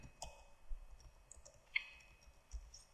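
A computer mouse clicks several times while a user works in SolidWorks, producing soft, sparse taps with one sharper click in an otherwise quiet room.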